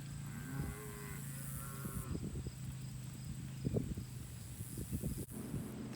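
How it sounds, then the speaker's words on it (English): Baby calves call out with a series of short moos in the midst of calving season while the herd is moved between grazing cells, some cries close and others distant, against a soft continuous outdoor hum. "you can hear all of the little baby calves mooing for their mothers"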